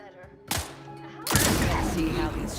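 Gunfire at a shooting range in The Outer Worlds 2, with a sharp shot near the half-second mark followed by a louder sustained burst of rapid shots that fills the rest of the clip alongside game ambience.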